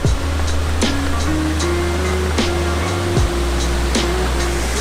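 Steady roaring rush of the Mag-Aso Falls pouring into a large pool, loud and close, constant throughout with a low drone underneath.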